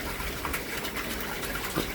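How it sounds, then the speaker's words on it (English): Fresh water gushing steadily into a fish tank as it is topped up, a loud continuous pouring rush with no break, close to the listener. "Just topping up with a little bit of fresh water now."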